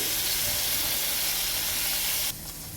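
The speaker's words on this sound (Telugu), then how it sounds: "ఇందులో ఇప్పుడు మనం బటర్ వేసేసుకుందాం ఇది ఫ్రెష్ బటర్ అండి" Fresh butter sizzles in a hot pan, giving a loud, steady hiss that drops away sharply near the end, with no talking.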